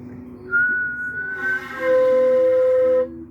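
A person whistles clear, steady tones, first a short broken note, then a long sustained higher pitch held for over a second, loud and close.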